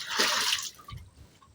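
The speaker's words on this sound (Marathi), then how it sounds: "आता दगड टाकतोय" A stone is dropped into the water of an old well, giving a burst of splashing water, loud and close at first, followed by quieter dripping and ripples.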